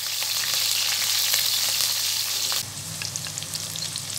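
Nigella seeds and green chillies hit hot oil with a loud, close, hissing sizzle that holds steady, then drops abruptly to a quieter crackling fry with light stirring.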